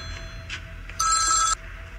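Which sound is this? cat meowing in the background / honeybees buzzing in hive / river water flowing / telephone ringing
telephone ringing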